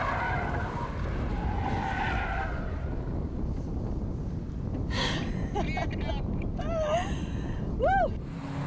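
A front-wheel drive Volkswagen Polo rally car understeers on a stage, its tires skidding and squealing through the corner under steady engine and crowd noise, with a few sharp high squeals near the end.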